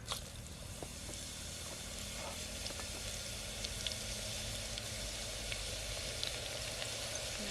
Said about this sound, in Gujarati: તેલ તો ગરમ થઈ ગયું છે આપણે લહણના કટકા નાખી દઈએ